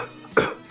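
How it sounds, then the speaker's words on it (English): A single sharp cough, close and fairly loud, bursting out briefly before fading back to quiet. "How do you cough?"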